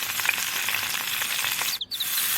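Chicken frying with paprika, black pepper, cinnamon and cumin is stirred in a pan, giving a soft, continuous sizzle with light scraping, followed by a brief clink near the end.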